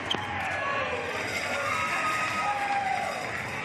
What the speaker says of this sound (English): We got a "We Want Gaskin" chant.